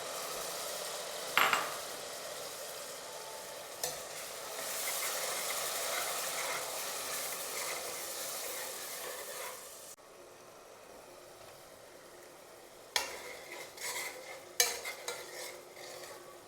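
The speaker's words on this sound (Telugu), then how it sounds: "మిక్సీ పట్టుకున్న టమాటా పేస్ట్ కూడా దీంట్లో వేసుకొని బాగా వేయించుకోవాలి." Tomato paste is stirred and fried in a pressure cooker, a continuous hiss of sizzling broken by sharp scrapes and knocks of the spoon against the pot, quieter toward the end, with no voices.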